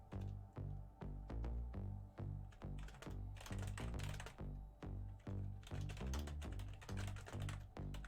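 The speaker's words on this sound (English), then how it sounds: "Sorry, I'm typing up something." Fingers typing on a computer keyboard during a live gaming stream: quiet, rapid clusters of keystroke clicks in an uneven rhythm, repeated throughout with short pauses and no talk.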